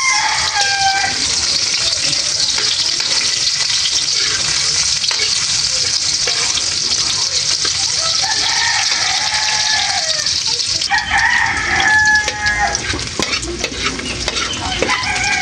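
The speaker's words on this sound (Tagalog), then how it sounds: "ginigisa ko na rin po itong ating sibuyas, bawang" Onion and garlic sauté loudly in a pan for a sarciado of talakitok fish, a dense, continuous sizzle with stirring scrapes; a rooster crows faintly in the background near the end.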